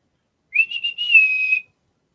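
A single close, loud whistle blown to call a dog, a high, slightly wavering tone lasting about a second, alone against silence.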